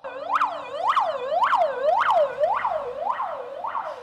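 A fire engine siren wails in repeated rising-and-falling sweeps, about one every half second, loud and steady as the fire brigade arrives for a drill at a concert hall.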